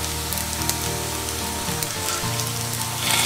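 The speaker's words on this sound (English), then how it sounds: "Now I've heated oil in the wok. I'll shallow fry them." Kidney bean cutlets shallow frying in oil in a wok give off a steady, close sizzle with fine crackles, loud and continuous, rising slightly at the end, over a faint low hum.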